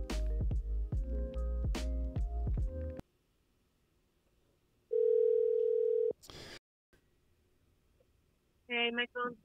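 A telephone line while a call is being placed: a steady flat dial tone sounds for about a second, set between bursts of music and clicks, with a short voice at the end.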